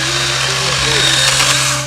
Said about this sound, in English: He's using the chainsaw, dude.